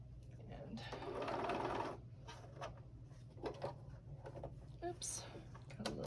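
A home sewing machine stitches a Grinch-themed Christmas pouch in one steady whirring burst of about a second, then falls quiet while soft handling clicks and rustles follow over a low hum, with speech present.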